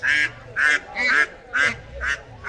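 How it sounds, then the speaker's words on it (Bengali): Domestic ducks at a market quack loudly and close by, five or six rhythmic nasal calls spaced about half a second apart, standing alone without talk. "দর্শক দেখুন এখন আছে বেশ সুন্দর সুন্দর পাতি হাঁস"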